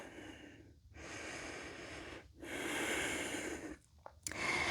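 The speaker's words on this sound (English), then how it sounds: "Keep breathing deeply in and out of your nose. Ujjayi pranayama." Deep ujjayi breathing in and out through the nose during a vinyasa yoga flow: several long, airy breaths close to the mic, each ending in a brief pause, with no speech.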